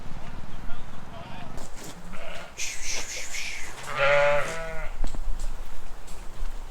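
A sheep bleats on a farm, a distinct wavering cry near the middle, amid rustling, hoof clatter and people talking over it.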